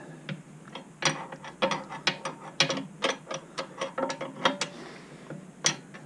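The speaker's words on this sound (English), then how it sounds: "Just a light nip up just to prevent the bolt from moving too far." Close, crisp ratchet clicks come in an irregular rapid series as a bolt is lightly tightened while fitting a mainstand to a BSA A70L motorcycle, with brief pauses between bursts and no talk.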